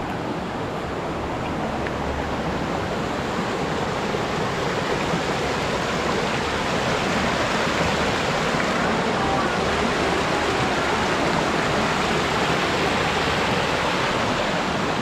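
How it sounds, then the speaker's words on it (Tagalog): A strong rushing river in a rural countryside setting roars as a dense, steady wash of water noise, loud and unbroken throughout with no talk over it. "So, malakas pa itong ilog guys."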